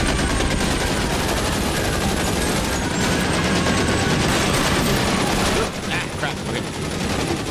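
Gunfire in L.A. Noire, rapid, loud bursts of shots that run almost continuously before easing off near the end, with someone briefly speaking over it.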